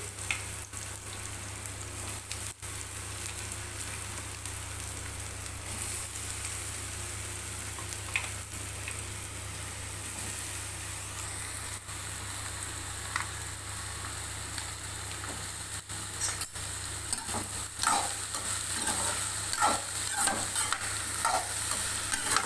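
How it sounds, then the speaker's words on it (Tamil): Ridge gourd sautéing alone in hot oil for a chutney, giving a steady, continuous sizzle with soft stirring scrapes that grow busier and louder toward the end, with no one speaking. "பீக்கங்காயை மட்டும் போட்டு இப்போ வதக்கிக்கலாம்"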